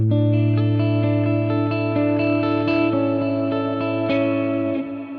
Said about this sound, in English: I'll disengage the delay so you can hear just the reverb.